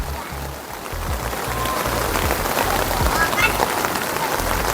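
Steady rain falls at a riverside campground, a dense, even hiss of drops on surfaces, loud and close throughout, with a low engine-like rumble and faint voices underneath.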